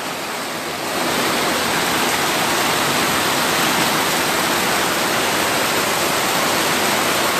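Heavy, steady rain pours down on a rabbitry with a leaking roof, a dense hiss, a constant roar of falling water that swells after the first second and stays loud.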